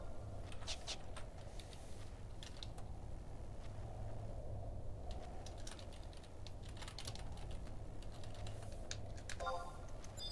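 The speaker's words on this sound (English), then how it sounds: "This guy is horrible at typing," Rapid typing on a computer keyboard fills the whole stretch with dense, continuous key clatter, close and fairly loud, with no pauses.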